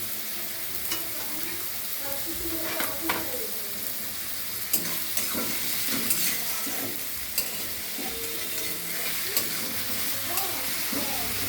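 Onions with a pinch of salt frying in a pan for a Bengali chicken curry give a steady close sizzle, broken by irregular scraping and stirring clicks for about eleven seconds with no voices.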